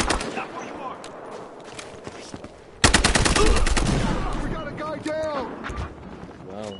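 Rapid automatic gunfire from an online multiplayer shooter, loud bursts starting a few seconds in and continuing in dense volleys, with players talking over the shooting.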